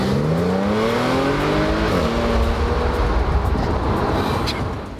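A 2012 Audi S5 rebuilt from salvage accelerates hard from a dead stop, its engine rising loudly through the revs, briefly dipping at a gear change, then climbing again with road and tire noise as it pulls away.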